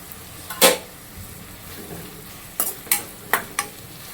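Onion, green chili and tomato frying in oil for a North Karnataka puffed rice dish, a soft sizzle under several distinct scraping stirs of a spoon against the pan, close and clear.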